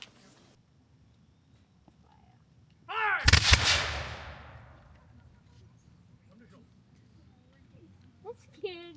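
Cannon and musket salute at a battlefield commemoration ceremony: one deafening boom that rolls into a long, fading rumble over several seconds, with faint outdoor voices and noises before and after.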